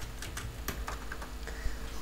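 Keys click on a computer keyboard while someone works in Roblox Studio, a quick irregular run of light taps close to the mic with nobody speaking.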